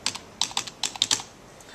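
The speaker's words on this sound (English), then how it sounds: "type in the username" A username is typed on a computer keyboard in a quick burst of about a dozen crisp, close key clicks in irregular groups, then a short pause, with no voices.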